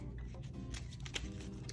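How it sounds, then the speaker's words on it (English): A deck of playing cards for a spy-themed tabletop card game being shuffled, a quiet, close riffling and patter of cards lasting under two seconds. "After shuffling the deck,"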